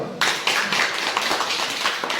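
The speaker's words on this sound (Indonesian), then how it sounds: "Tepuk tangan ayo." A classroom of students clapping their hands together in a brisk, steady burst of applause that starts suddenly and carries on evenly, fairly close and loud, with no voices over it.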